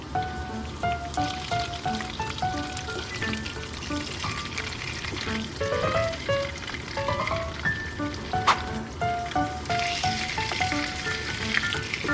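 Potato pieces fry in a pan, cooked covered over low heat for a rest-stop style buttered potato snack, with steady crackling sizzle and intermittent scraping and clattering as they are stirred, close and without talk.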